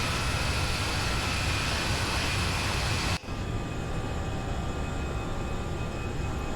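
Steady, loud engine roar of an Airbus A320 climbing after takeoff in an FSLabs flight simulator, a continuous broadband drone with a brief dip partway through before resuming at a slightly lower tone.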